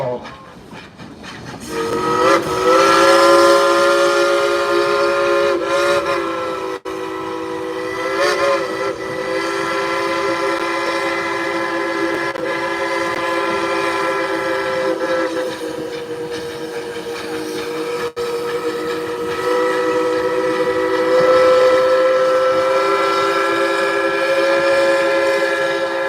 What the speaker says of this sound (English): Alrighty, on the count of 3, it's time to blow the whistle.